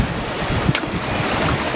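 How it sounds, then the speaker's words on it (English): Strong wind roars across the microphone while sailing at sea in the Stockholm archipelago, a loud, steady rush with waves beneath it and no voices. "now we have a lot of wind"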